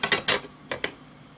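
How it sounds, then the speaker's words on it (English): A small Phillips screwdriver turns tiny 2x6mm screws into the chassis of a Red Bull RB7 scale model kit: four crisp, close clicks in two quick pairs, then quiet, with no talking. "now grab your small Phillips head screwdriver and one of the 2x6mm screws"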